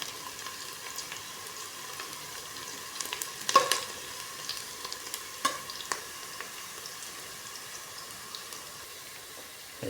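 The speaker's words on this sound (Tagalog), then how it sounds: "Tapos lagyan natin yung bawang. Haluin natin guys" Garlic frying in a pan for Filipino sautéed squid with cabbage gives a quiet, steady sizzle, broken by a few scraping strokes of stirring near the middle.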